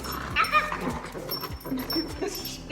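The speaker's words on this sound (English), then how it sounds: "There's a dog trying to get in." A dog whimpers and yips in short, thin bursts at a door, trying to get in, mixed with faint background voices and some household noise.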